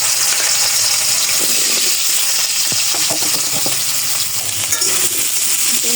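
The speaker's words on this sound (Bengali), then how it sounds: "এটা ভেজে নেবো আলুটা।" Peeled potatoes fry in hot oil with a loud, dense, continuous sizzle, close by, with small scraping and clinking touches of stirring running through it.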